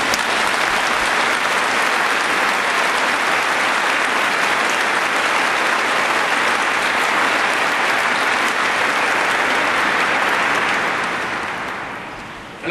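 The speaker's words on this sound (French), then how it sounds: "on peut vous applaudir" Sustained applause from a congregation fills a cathedral after a celebration marking a new bishop of Orléans, dense and steady for about twelve seconds before tapering off at the end.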